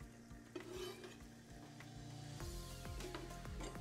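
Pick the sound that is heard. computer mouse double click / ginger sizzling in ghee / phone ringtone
ginger sizzling in ghee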